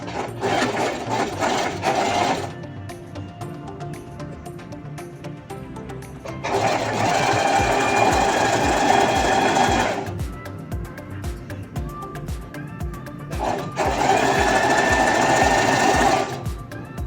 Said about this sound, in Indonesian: kemudian kita jahit tepi sini